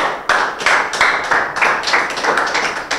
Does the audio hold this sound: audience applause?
yes